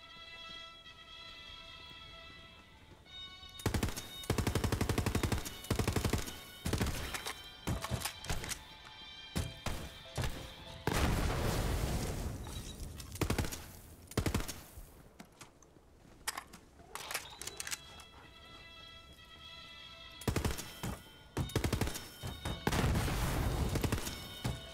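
Bursts of gunfire from shooting at targets in the video game Borderlands 3, coming as repeated loud volleys and separate shots with short gaps between them, over a steady tonal game background.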